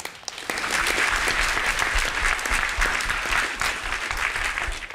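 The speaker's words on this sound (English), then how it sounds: "How about another round of applause for generous, talented Faith Rivera?" A large audience claps for a performer at a gathering, steady dense applause that rises within half a second and holds loud and even throughout.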